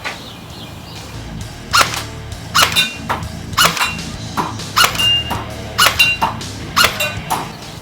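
OENLOL double-barrel gel ball blaster firing with its silencer removed, a series of sharp snappy shots in irregular bursts, each a crisp high crack over a quiet background.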